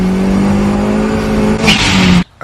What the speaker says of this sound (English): This is the Blitz Super Sound dump valve.